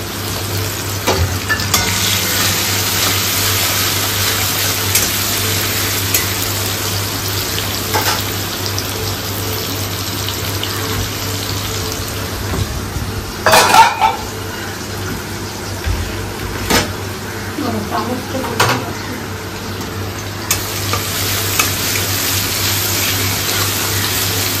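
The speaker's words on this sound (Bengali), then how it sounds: "আলু ভাজার তেলেই মা প্রথমে রসুন থেতো দিল" Crushed garlic sizzles steadily in hot oil left over from frying potatoes, a dense continuous crackle close to the microphone, broken by a few scraping stirs of a spatula in the pan.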